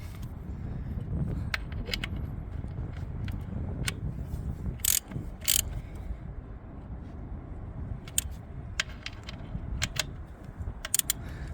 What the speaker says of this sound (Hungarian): És meghúzni a leengedő csavart.